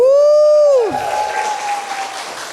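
A church congregation at Bethany Believers, Medan, breaks into cheering and applause after a sliding, sustained vocal shout, the crowd noise continuing as a broad wash.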